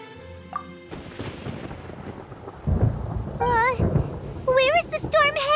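Thunderstorm in a video game, with deep rolling thunder booms rising in the second half over steady rain-like noise, mixed with game voices and rising, wavering tonal effects near the end.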